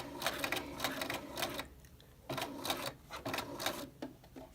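A sewing machine stitches a garment neckline in short, close bursts of fast mechanical whirring, stopping briefly in the middle before starting again for two more runs.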